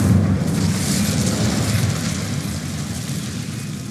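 Incendio fire spell cast in Hogwarts Legacy, a roaring whoosh of flame that bursts loudly at once and then rumbles on steadily, slowly fading over several seconds with no talk.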